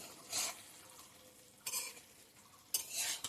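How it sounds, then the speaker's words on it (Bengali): Ridge gourd fritters are turned in a pan, with three brief bursts of scraping and soft sizzle from a spatula separated by near silence, faint and close. "বড়াগুলো উল্টিয়ে দিব"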